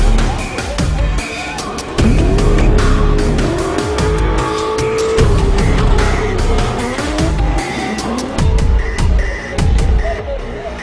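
A loud V8 drift car revs hard at a motorsport event, tires squealing in long sliding whines over the roaring engine, with rapid throttle blips, shifts and a faint crowd murmur behind.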